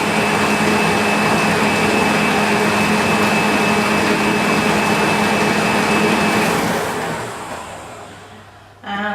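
An electric mixer whirs loudly and steadily through coffee and walnut cake batter at a raised speed, then winds down near the end with a brief final burst.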